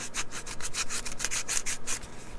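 Rhythmic scratchy rubbing of a sanding stick, about a dozen quick back-and-forth strokes, close and steady with no talking.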